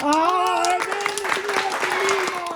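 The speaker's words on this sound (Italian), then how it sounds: "Applauso." Scattered applause from a small group, short claps heard under a continuous voice that dominates the moment.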